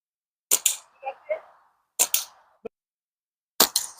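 Slingshot fitted with Silinxiate target-shooting bands on a Cygnus frame, fired outdoors: three sharp, loud snaps spaced apart, each followed by a quick secondary crack.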